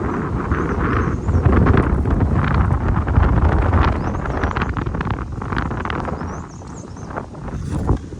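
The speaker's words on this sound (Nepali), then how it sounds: "हावाको आवाज सुन्नु साथीहरू," Strong wind blows steadily across a hilltop viewpoint near Chaitya Gumba overlooking Kathmandu, roaring and buffeting the microphone in loud gusts for the whole stretch, with no voices.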